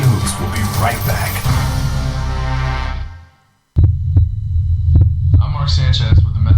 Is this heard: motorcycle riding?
no